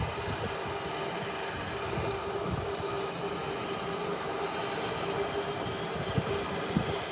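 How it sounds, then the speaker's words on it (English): A propeller engine on an airliner runs steadily after start-up, heard as a continuous droning roar with a faint steady hum, moderately loud and fairly distant, with no talking. "And there you go, the right engine has started."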